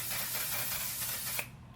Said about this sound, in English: This is a setting spray.